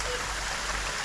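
Small waterfall trickling and dribbling through moss along a hiking trail near El Chaltén, a steady close, soft wash of running water with no voices.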